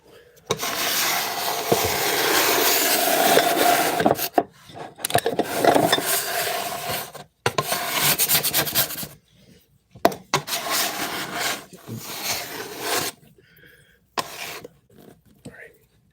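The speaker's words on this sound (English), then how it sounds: "But I can use my bench scraper now" A bench scraper works sourdough across a wooden bench, producing loud, close rasping and rubbing strokes in long sweeps broken by short gaps, with a cough and brief talk mixed in.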